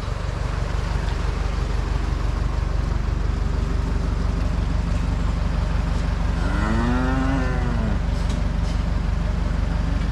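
Cattle on a farm moo once in a clear, drawn-out call midway through, heard over a steady low engine-like rumble from a vehicle or machinery running throughout.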